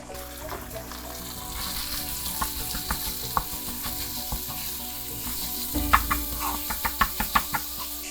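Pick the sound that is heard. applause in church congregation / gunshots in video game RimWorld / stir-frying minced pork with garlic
stir-frying minced pork with garlic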